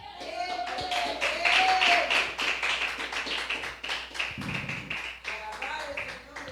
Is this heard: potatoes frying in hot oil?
no